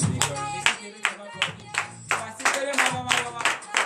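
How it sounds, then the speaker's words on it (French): A church congregation claps in rhythm and cheers in praise during a morning prayer service in Benin, with bursts of hand claps over a low sustained musical or vocal drone, fairly close and steady. "Veuillez vous lever sur vos pieds et donner une vive acclamation à l'Éternel."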